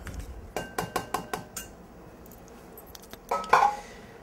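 A knife slices cherry tomatoes in half on a cutting board, giving a quick run of five or six crisp, close taps, then a brief clatter as the halves drop into a bowl.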